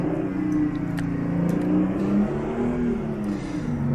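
Detroit Diesel 6V92 truck engine in American Truck Simulator, driving through heavy snow: a steady, continuous diesel drone with shifting low harmonics as revs rise and fall, loud and alone throughout.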